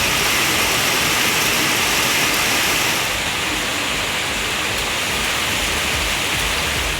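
Heavy rain pours down with strong wind under dark clouds over a town, a dense, loud, continuous hiss that eases slightly partway through, with no voices.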